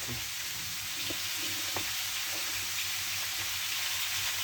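Soft, steady sizzling of fresh pork frying in a pan, a constant hiss with faint occasional clicks, heard alone without voices.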